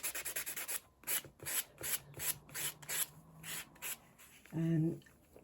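Nail buffer scrubbing across a fingernail in quick repeated strokes, a soft close rasping rhythm of short bursts, with a brief voice near the end.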